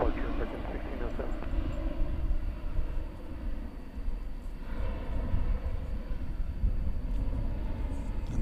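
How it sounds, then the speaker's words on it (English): An American Airlines Airbus A321 taxis at night at Dallas Fort Worth Airport, its steady broadband engine rumble and whine continuous and moderately loud throughout, with no clear changes in pitch. "American Flight 446 to San Francisco is on the move."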